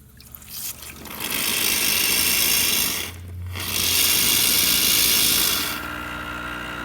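Hot water pours from the wand of a Quick Mill Anita espresso machine, a steady loud hiss and splash running for several seconds, briefly interrupted midway and then resuming before tapering off.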